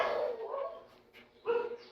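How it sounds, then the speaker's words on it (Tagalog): Two bursts of dogs barking close by, an extended yelping bark followed by a shorter one after a brief pause. "Tapos ang mga aso ang ingay-ingay pa."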